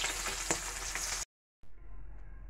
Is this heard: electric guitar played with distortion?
no